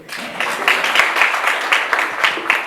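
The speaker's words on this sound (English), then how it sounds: "can we clap for them?" An audience at a talk on COVID-19's impact on young people applauds a group, a full burst of close, lively clapping with rhythmic pulses sustained throughout.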